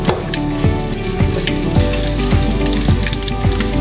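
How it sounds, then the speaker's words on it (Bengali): Dried chillies, crushed garlic and bay leaf frying in hot oil, a loud dense sizzle with rapid crackling and sharp pops, close up and continuous without speech. "5টি শুকনো মরিচ দিয়ে দিচ্ছি, 5-6টি। এবার একটু ভেজে নিচ্ছি।"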